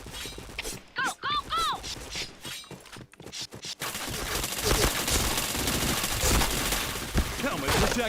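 Point Blank shooter game gunfire: a few clipped shots and in-game voice alerts, then sustained loud automatic fire in dense bursts through the second half.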